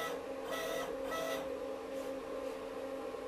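A 3040 CNC router driven by a USB motion controller: stepper motors buzz and whir in short bursts at close range, pulsing in a repeating rhythm over a steady low hum.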